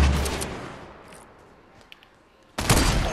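Gunfire from a sniper rifle in a shooter video game: a loud burst at the start, a quieter stretch with a couple of faint pops, then another loud blast near the end.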